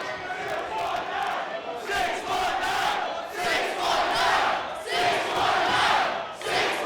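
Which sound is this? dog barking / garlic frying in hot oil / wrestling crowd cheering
wrestling crowd cheering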